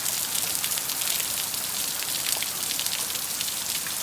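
Rain pattering densely on a hard surface during Hurricane Zeta, a continuous crackling hiss with scattered droplet ticks, steady and fairly close.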